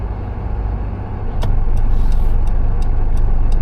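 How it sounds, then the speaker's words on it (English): Car engine idling at a curbside parking spot steps up in loudness as the vehicle starts off and pulls out, a steady close engine hum with a few faint clicks, no voices. "So you start the vehicle and give the right indicator"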